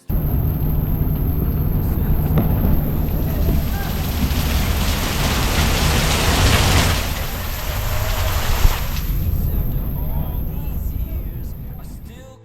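Torrential rain pours down heavily on a campsite during a motorcycle camping trip in North Carolina, a loud, dense, steady hiss with low rumble that eases slightly partway through and continues to the end.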